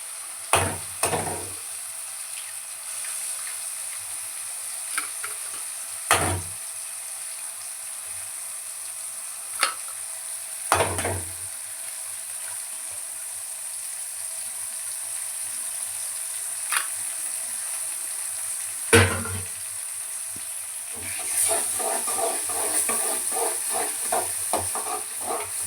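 Three cracked eggs sizzle in a hot pan, a steady soft frying hiss punctuated by several sharp clanks and stirring knocks, growing into louder crackling spatter near the end, with no voices.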